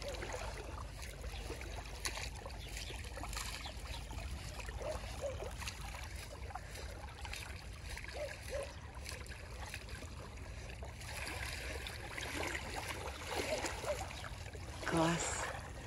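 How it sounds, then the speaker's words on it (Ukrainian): Small waves lapping at the water's edge, a soft, continuous wash and gentle splashing heard close by at low volume, with nothing else standing out. "як я люблю оцей звук, оцей шум хвильки"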